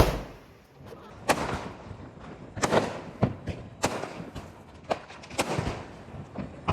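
Diwali firecrackers burst around a rooftop neighbourhood at night, a run of sharp loud bangs and thuds, some near and some farther off, spaced irregularly over a low crackling background.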